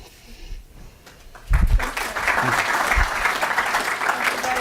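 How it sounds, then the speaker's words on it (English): Conference audience bursts into applause after a quiet start, dense clapping swelling quickly and holding steady at moderate loudness to the end. "So if you clap for them."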